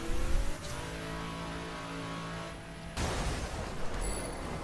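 A car engine held in third gear in The Crew revs steadily with a rising whine and then a sudden louder surge of roar and rushing noise, close and continuous with no talking.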